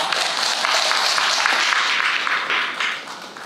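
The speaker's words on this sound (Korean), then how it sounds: "오늘도 좋은 장 해주신 김보경 선생님께 다시 한번 박수 부탁드리겠습니다." Sustained audience applause at a panel discussion on home-care health management for people with disabilities, a dense, even wash of many hands clapping at steady volume that tapers slightly toward the end, with no voices over it.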